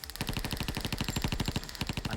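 Rapid automatic gunfire from a staged action-movie firefight being filmed for 12 Rounds 3. It comes as a fast, even stream of sharp, loud shots, about a dozen per second, unbroken from start to finish.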